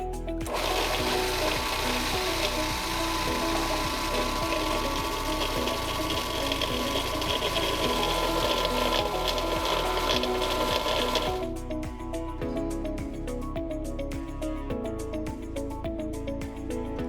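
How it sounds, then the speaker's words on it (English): A food processor whirs continuously, blending hummus ingredients with a dash of cumin, a steady motor drone with rhythmic churning that loosens and shifts tone partway through as the mixture smooths out; no talking. "let it blend until it looks smooth"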